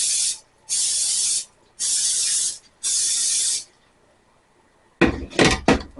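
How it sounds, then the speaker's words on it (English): Four long, loud hissing bursts of aerosol cooking spray onto metal muffin tins with short pauses between them, followed by metallic clattering and handling noises. "I'm going to spray them because the eggs will stick."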